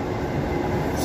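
An express passenger train made up of sets 107 and 109 rushes through Bayswater station, a loud, close, steady rumble of wheels on rails with no talk over it.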